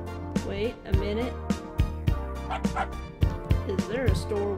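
A dog in the Always Sometimes Monsters video game gives several short, close bow-wow barks and yips in an uneven rhythm, with a low steady game hum behind them.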